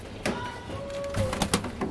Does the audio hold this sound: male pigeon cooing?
yes